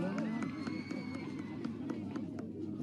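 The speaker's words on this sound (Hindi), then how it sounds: "तालियां बजते रहें।" Audience applause at a public event on Lal Parade Ground in Bhopal, a steady dense clapping crowd with some background murmur, sustained throughout.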